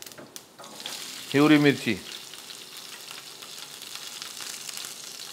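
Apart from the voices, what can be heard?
fenugreek seeds and cumin sizzling in hot oil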